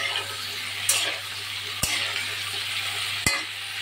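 Potato and pointed gourd frying in a pan for a vegetarian curry, a steady close sizzle broken by three sharp utensil knocks, no talk.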